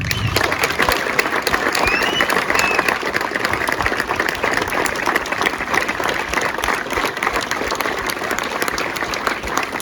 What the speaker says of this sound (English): I would like to give a round of applause for that.